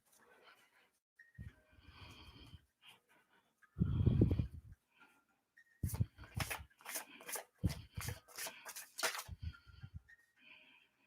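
Tarot cards being shuffled in quick bursts of soft riffling and slapping, close by, separated by short quiet pauses.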